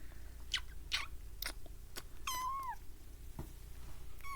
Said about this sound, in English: Is there a kitten on the screen?